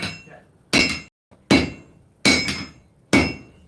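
Hammer forging steel on an anvil during a swordsmithing session: five loud, ringing metallic strikes at a slow, steady pace, each one close and decaying quickly before the next.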